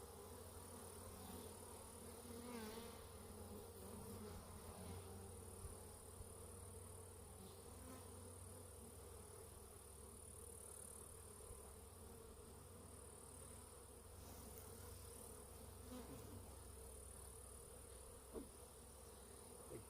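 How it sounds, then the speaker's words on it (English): Carniolan honey bee drones buzz steadily around a beehive, a dense continuous hum of many insects close by with no talking. "Big Carniolan drone."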